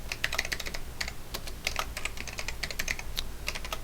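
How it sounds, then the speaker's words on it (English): Keys clatter on a computer keyboard in quick, irregular bursts of close, crisp taps that continue throughout with no pauses long enough to break the rhythm, over faint background hum and no talking. "Try typing in here."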